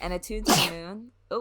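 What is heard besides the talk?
sneeze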